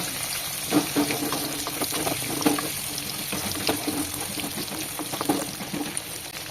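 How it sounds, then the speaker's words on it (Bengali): Potatoes frying in ghee and oil with whole garam masala spices for mutton chaap, a steady close sizzle with occasional crackles and stirring clinks, no voices. "ঘি তেল আর এই গোটা গরম মশলার বেশ একটা সুন্দর গন্ধ বেরোচ্ছে আর এর ভেতরে আলুটা ভাজা হচ্ছে"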